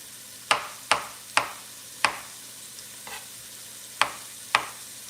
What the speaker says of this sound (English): we're gonna give our onions a nice little stir